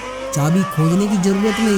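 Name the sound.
expensive car speeding off with squealing tires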